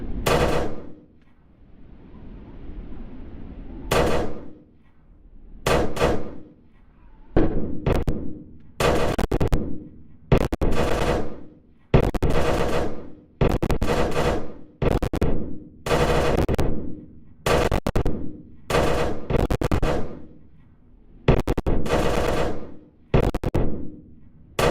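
Gunfire in the Roblox video game, repeated bursts of rapid automatic shots in bunched volleys with short pauses between, loud and close.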